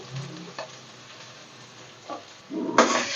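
Onion frying in a little oil in a home kitchen pan, a soft steady sizzle with a few brief stirring scrapes, rising to a louder burst of sizzle near the end.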